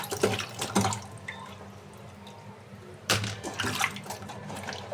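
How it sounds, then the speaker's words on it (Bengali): Tap water splashes in bursts as spiny gourds (kakrol) are rinsed in a kitchen sink, loud splashing at the start and near the end with quieter trickling in between. "কাঁকরোলটা একটু ভালোভাবে ধুয়ে নিতে হয়"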